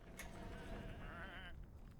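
Sheep bleating in the game Whateverland, one drawn-out wavering bleat followed by a shorter one over a faint murmuring background, soft and fairly close.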